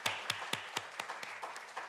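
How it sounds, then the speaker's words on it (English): A small audience at a training event claps in a sparse, slowing round, with a few sharp claps spaced roughly a quarter second apart that thin out and grow fainter. "Let's give ourselves a big round of applause."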